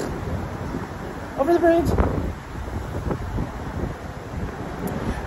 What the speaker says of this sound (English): There goes the wind.